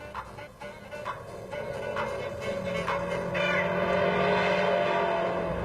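A Lotus 340R's centrally mounted engine revs steadily higher during a drive, its rising tone building in loudness as it climbs toward a screaming top end, with no talk over it.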